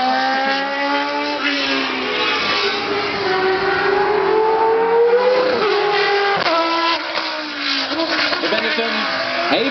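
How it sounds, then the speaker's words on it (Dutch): Classic March Formula 1 race car at a demonstration run, its engine screaming loud and close with continuous revving and shifting pitch over the whole stretch, brief dips around gear changes, and voices faintly mixed in. "De March, echt een heel erg goed geprepareerde auto."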